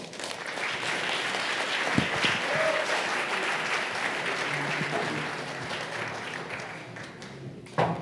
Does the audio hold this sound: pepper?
no